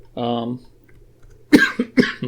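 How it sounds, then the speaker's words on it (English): A voice hums briefly, then after a pause two sharp, close coughs follow in quick succession. "pardon, still coughing"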